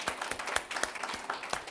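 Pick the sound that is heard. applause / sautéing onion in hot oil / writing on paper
applause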